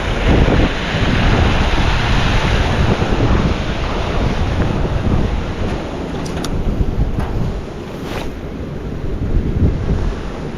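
Loud wind buffets the microphone over the steady wash of waves, a constant roaring rush with slight gusts and no talking.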